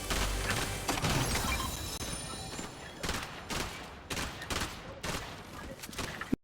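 Turret gunfire in a Fortnite match: a spread of sharp shots with several distinct bursts toward the end, moderately loud, mixed with faint background voices.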